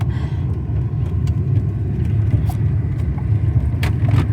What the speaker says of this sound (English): I'm driving to work today.